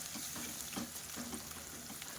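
Garlic, chili and asafoetida sizzle steadily in a pan on a low flame, a soft continuous frying hiss with faint crackles throughout, no voices.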